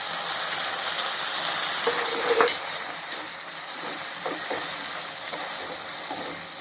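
Chopped small tomatoes go into a pan of frying onions for a dry barracuda fish fry, and a steady loud sizzle with a brief clatter and faint stirring sounds carries on throughout.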